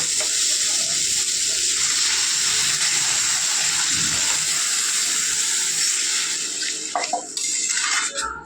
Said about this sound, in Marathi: आपण टाकूया अर्धा ग्लास पाणी